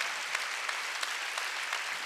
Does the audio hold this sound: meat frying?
no